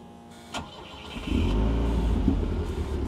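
A Volvo 242 with two mufflers cranks and fires, then settles into a steady, deep, quiet idle close by, with a small blip partway through.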